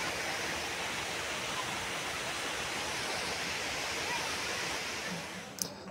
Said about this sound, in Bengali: এই সাইডটা দিয়েও এই যে বিলের জল নামছে